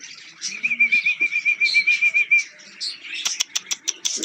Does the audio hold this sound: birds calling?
yes